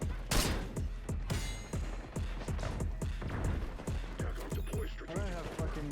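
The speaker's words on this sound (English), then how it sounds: "Yeah, my shotgun's powerful up close." Rapid shotgun blasts from an ASG 89 in Call of Duty: Black Ops 6 boom out in a fast, regular string of loud, close shots, with game effects layered around them and a few crashes near the end.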